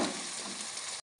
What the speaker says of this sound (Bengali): হালকা পেঁয়াজটা ভেজে নেব।